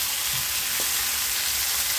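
Boiled kalmi greens (water spinach) fry with onion in a pan, giving a steady, loud, even sizzle with a faint clink of a utensil, no voices.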